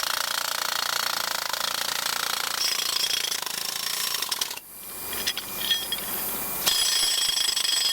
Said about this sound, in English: This is a light jackhammer.